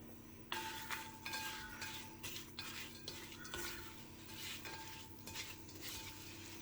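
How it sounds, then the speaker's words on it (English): Apple crumble mixture with roughly chopped pecans, for a gluten-free vegan apple maple crumble, being stirred in a bowl: soft repeated scraping and clinking strokes in a steady rhythm, close and quiet, with no talking. "Now I'm just going to give this a good stir."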